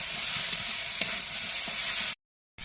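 Jackfruit seeds and taro stalks fry with salt and turmeric in a pan, giving a steady close sizzle with a few light stirring clinks, then cutting to brief silence near the end.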